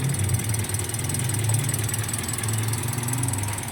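A Toyota Calya / Daihatsu Sigra engine idles steadily with the radiator fan running, a continuous rough mechanical hum and whir heard close up with no talk.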